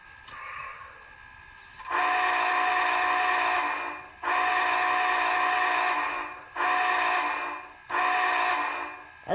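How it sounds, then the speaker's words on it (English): Four long, loud blasts of a chime-like steam whistle from an HO-scale model Union Pacific Big Boy 4014 locomotive, each held a second or two with brief gaps between, preceded by a faint short toot. "I really like that horn,"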